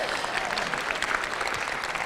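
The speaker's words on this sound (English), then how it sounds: "Let's give her a round of applause." A seminar audience gives a speaker a round of applause: a continuous wash of many hands clapping at moderate loudness, even and sustained for the whole stretch, with no voices.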